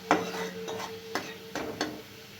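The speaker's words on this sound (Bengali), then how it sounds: "একটু নেড়ে নেবো এটা।" Turmeric, chili powder, green chilies, bay leaf and nigella seeds are stirred in a pan for a hilsa curry: several close scraping and clinking strokes of a utensil against the pan over a soft sizzle, without talk.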